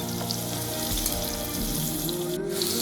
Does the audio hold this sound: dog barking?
no